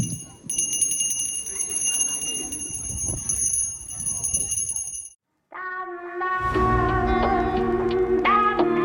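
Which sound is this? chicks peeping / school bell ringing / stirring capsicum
school bell ringing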